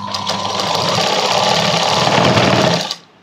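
A sewing machine runs steadily at close range, stitching the puff sleeves of a blouse in one continuous whirring burst before stopping abruptly.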